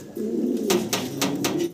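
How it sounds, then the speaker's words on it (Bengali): Several pigeons coo together in a pigeon sale setting, a close, rolling drone of low calls broken by a few sharp flutters or taps. "অনেকগুলা কবুতর একসাথে দেখাচ্ছি আপনাদেরকে"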